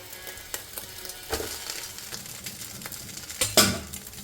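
Chicken noodles stirred in a frying pan, a steady sizzle broken by light scraping and clinks of a utensil against the pan, with a louder clatter near the end.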